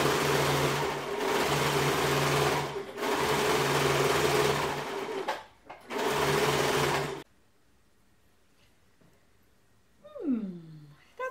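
A sewing machine stitches a sweatshirt in four loud, close runs of rapid whirring, separated by brief pauses, then falls quiet.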